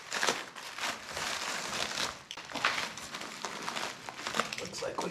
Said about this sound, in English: It's time to unwrap our beautiful new glass.